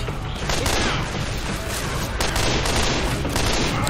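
Rapid sustained gunfire from the Left 4 Dead 2 video game, loud and continuous for about four seconds with dense overlapping shots and no pauses.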